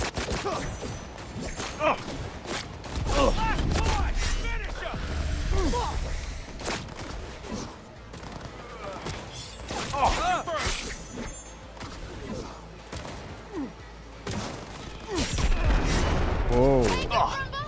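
Gunfire in the video game Cyberpunk 2077, with repeated loud bursts and impacts across a busy firefight, under a voice shouting over the action.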